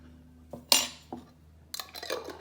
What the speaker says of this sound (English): This time I'm gonna use a spoon to dip it out with